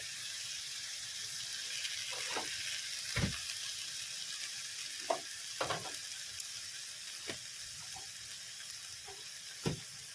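Chicken sizzles loudly in a pan with dark soy sauce and Kissan tomato ketchup for chicken chow mein, a constant close frying hiss broken by a few scrapes and knocks of stirring, with no talking.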